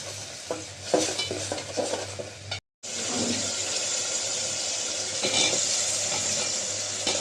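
A spice paste with green chilies and dried fish fries and is stirred in a pan, giving busy close scraping and sizzling that cuts out for a moment, then returns as a steady hiss.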